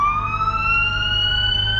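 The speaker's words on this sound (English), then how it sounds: "this is a fire truck" A fire truck siren passing on the road, a loud, sustained wailing tone that slowly rises in pitch over a low rumble of traffic, brief and without talk.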